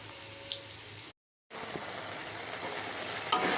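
Chicken pieces frying with spices in a pan, a steady sizzle with faint stirring and scraping that drops out briefly, then returns louder with a short sharp clatter near the end.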